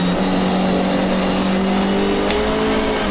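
A classic MGB race car at full pace on the Silverstone GP circuit gives a continuous, loud engine drone from inside the cockpit, holding a steady pitch with a faint rise.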